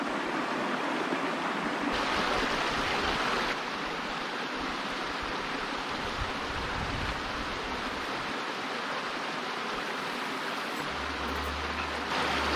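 Steady rushing of a flowing stream, close and continuous, with no voices.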